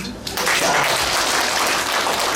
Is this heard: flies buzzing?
no